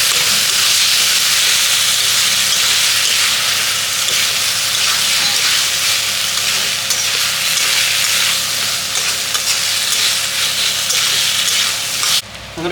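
Rice grains fry in a pot with a loud, steady sizzle and hiss that runs unbroken, with faint stirring scrapes and a brief clatter near the end.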